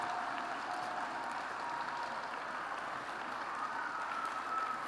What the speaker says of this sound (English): We got a big round of applause for you